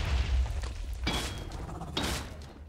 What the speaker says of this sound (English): Big explosion, that one's scary.